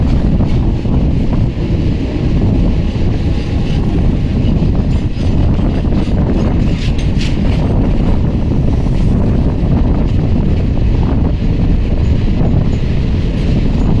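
A heavy freight goods train rumbles past on the Guntur–Guntakal double line, with a continuous loud low roar and wind buffeting the microphone throughout, no voices.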